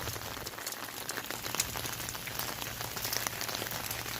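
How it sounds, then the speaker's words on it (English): Steady rain pattering on a hard surface, a dense even hiss of drops with no voices, fairly close and constant throughout. "The rain has slowed down."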